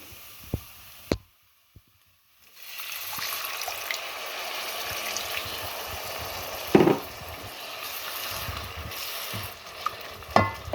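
Tamarind water and jaggery go into chili powder frying in a pan, starting with a few sharp clinks, then a short hush, then a sustained bubbling sizzle with occasional utensil knocks, close and moderately loud.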